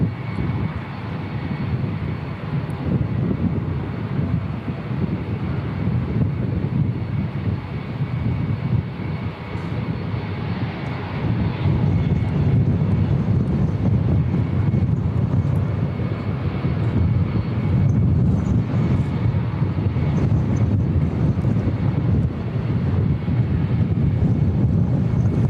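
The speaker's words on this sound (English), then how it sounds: "Sounds like we've got an ATR that's starting up." An ATR turboprop aircraft starts up its engines at an airport in the distance, a continuous droning rumble that swells slightly partway through, with no talk over it.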